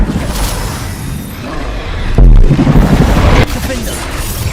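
Confringo fire spell blasting in Hogwarts Legacy, a sudden booming explosive burst in the middle of busy battle noise that fades quickly after about a second.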